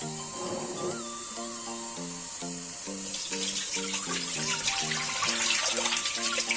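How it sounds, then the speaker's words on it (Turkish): Tap water runs into a container of green olives, a continuous splashing stream that grows louder and fuller halfway through, with a repeating tonal pattern playing underneath. "normal çeşme suyuyla tekrar suyunu koyuyoruz."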